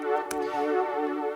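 A Serum synth patch shaped by EQ, a sustained buzzy tone rich in overtones, steady and upfront, with one brief bright click near the start and no talking.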